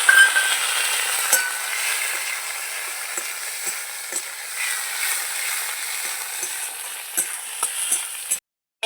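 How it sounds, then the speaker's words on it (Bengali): Tomatoes and onions fry in a pan with a steady, fairly soft sizzle, light stirring taps and clicks scattered throughout, and an abrupt stop near the end. "টমেটো পেঁয়াজ ভাজা ভাজা হয়ে গেল"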